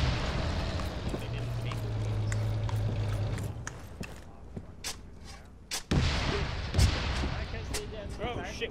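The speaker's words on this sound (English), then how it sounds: "Taking tank rounds." Tank cannon fire in the military shooter Arma 3, set in a Soviet WW2 multiplayer battle: a rumbling barrage of booming blasts, with two sharp, heavy impacts close together near the end standing out over a continuous roar.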